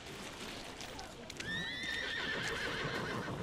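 Horse in the Victorian London setting of the video game The Order: 1886 gives a clear, rising whinny over steady hoof clip-clops and background ambience, with a voice faintly present.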